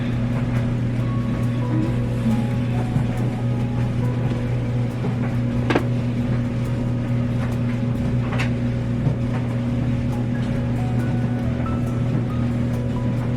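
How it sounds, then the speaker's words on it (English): A clothes dryer drones with a steady low hum, punctuated by occasional light rattles and knocks as it shakes. "you're on the dryer and it's shaking"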